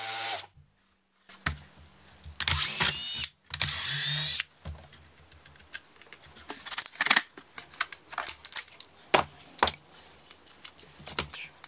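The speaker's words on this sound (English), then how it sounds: "cut the piece of plywood shorter so that it'll fit" A power saw cuts a piece of plywood shorter in a workshop, with sharp bursts of cutting noise separated by pauses, followed by scattered clicks, scrapes and handling of wood and tools.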